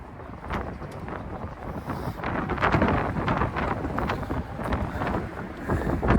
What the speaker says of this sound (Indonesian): Aduh, anginnya gila.